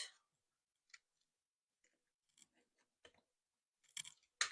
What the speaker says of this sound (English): So let's do an inch cut all the way around.